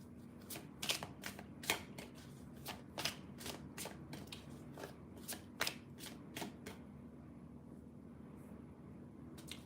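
Tarot cards are shuffled again and again during a psychic reading, with a quick series of crisp riffling flicks in uneven bursts against a quiet background, close and clear with no talking.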